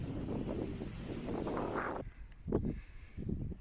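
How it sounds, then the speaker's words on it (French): Wind gusts buffet the microphone during a forest hike near Chamarande and La Ferté-Alais, a rough low rumble that drops off abruptly midway, followed by a few brief softer rustles and gusts. "Ah, le vent."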